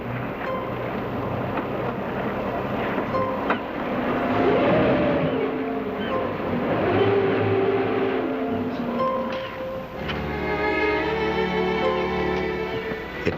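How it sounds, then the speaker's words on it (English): A motor cruiser's engine drones on the water as it heads for shore, with a low rumble and shifting hum, joined by a brighter, higher engine whine near the end. "I heard a motor and surfaced to see a cruiser making for shore"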